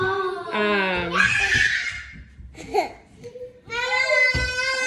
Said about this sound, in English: I don't know why he's screaming.